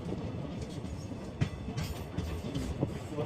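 A train rolls along the Srinagar to Baramulla line with a steady rumble from inside the carriage and occasional sharper clacks of wheels over rail joints.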